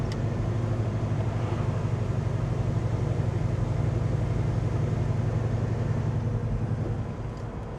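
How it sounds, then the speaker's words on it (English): Blower motor of the air conditioning in a 1967 Chevrolet Chevelle SS restomod with a 454, running as a steady, loud low hum and whir that holds level throughout and eases off slightly at the end. "So the blower motor has 3 speeds and it's working on all of them."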